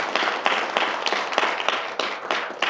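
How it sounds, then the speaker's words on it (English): Applause from a lecture audience thanking a guest at the close of a talk on self-defense in international relations and law, a steady patter of many hands clapping with a few sharper individual claps, no voices over it. "everyone, please join me in thanking our guest, give a big round of applause"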